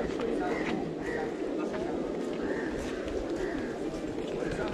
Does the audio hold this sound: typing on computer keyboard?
no